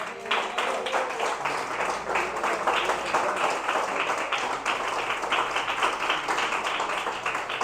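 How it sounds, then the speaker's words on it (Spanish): A church congregation applauds with dense, sustained clapping, loud and steady throughout without letting up, in San José, Suchitepéquez, Guatemala. "Dele un aplauso al Señor."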